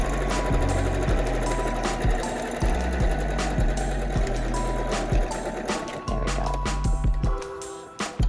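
A sewing machine runs back over the seam of a pleated rectangular fabric mask, its needle chattering in steady rapid bursts with brief pauses and restarts, close and alone.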